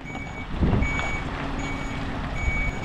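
A truck with a trailer reverses, its reversing alarm beeping repeatedly in a steady rhythm over the idling engine rumble, with a short air brake hiss, heard close with no talk.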